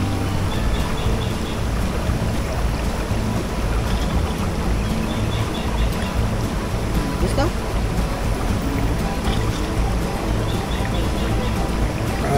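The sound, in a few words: natural flow of a river and birds calling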